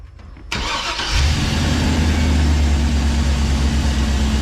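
A car engine cranks briefly, catches after about a second, then settles into a loud, steady, close idle that runs smoothly to the end.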